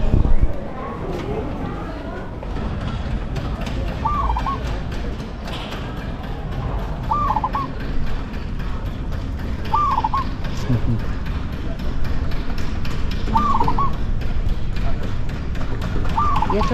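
A bird at a temple in Bangkok repeats a short call about every three seconds, moderately close, over steady crowd murmur and talk.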